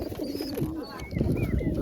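Pigeons coo softly from a rooftop coop where adult birds sit with two young chicks, a few short low throaty calls coming close up, with a faint voice in the background.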